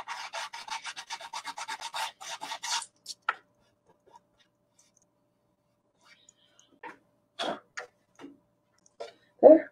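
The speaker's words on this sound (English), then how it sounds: "It's very easy to sand." Quick rhythmic rasping strokes of hand sanding WoodUBend moulding, close and brisk, then a pause followed by a few scattered scrapes and taps.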